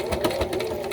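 A sewing machine stitches over the plastic part of a zipper while sewing a tote bag, a fast close-up mechanical rattle with rapid even pulses and no voices.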